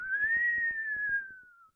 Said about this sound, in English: they added a synthesized whistle sound that tracks its trajectory, its altitude.